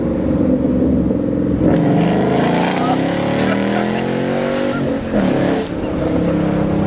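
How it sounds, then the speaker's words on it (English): A Ford Mustang with a 400-plus horsepower Coyote 5.0 V8 revs and accelerates hard, a loud continuous engine roar heard from inside the car with rising pitch sweeps. "Let me build some RPM, watch it."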